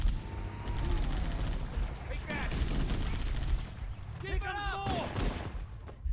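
Gunfire from the video game Halo CE, repeated shots in bursts over a loud, busy game soundscape, with people talking over it throughout.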